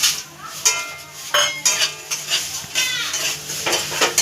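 Spices fry in oil in a pan in a village Bengali kitchen, a soft sizzle broken by repeated scraping and stirring clatters of a utensil against the pan, close and fairly loud.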